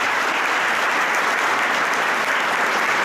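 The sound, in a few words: audience applauding at campaign launch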